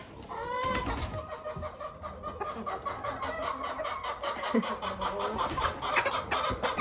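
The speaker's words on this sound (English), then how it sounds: "These chickens." Several chickens cluck and murmur close by, a busy overlapping chorus of short calls with a few higher squawks, no talking.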